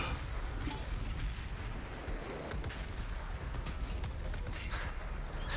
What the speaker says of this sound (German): Alle drei Schüsse vorbei.